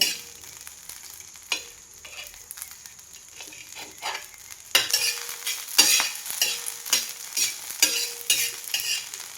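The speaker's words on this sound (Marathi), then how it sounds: "आता ना मी ही मिरची छान अशी डाग पडेपर्यंत भाजून घेणार आहे." Green chillies roast in a pan for thecha, stirred with a spatula: a soft steady sizzle under repeated scraping strokes that grow louder and more rhythmic in the second half, close up.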